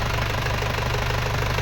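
An Isuzu engine idles steadily at close range, giving off a continuous low mechanical rumble with a faint knocking pulse and no speech over it.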